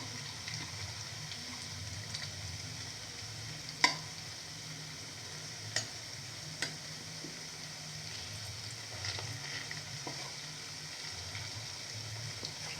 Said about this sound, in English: Fry by turning over from side to side.